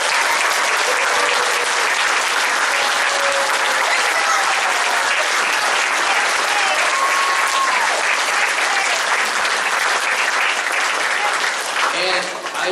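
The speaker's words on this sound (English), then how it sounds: "Jazz band and chamber, please get a big round of applause." A large school concert audience applauds middle school jazz band and chamber students, a loud, sustained wash of clapping with some crowd murmur and cheering underneath that continues strongly throughout.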